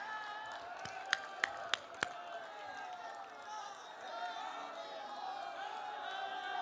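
A crowd at a political rally claps for a politician, a faint, steady wash of applause with a few sharper claps, heard under a voice on a loudspeaker.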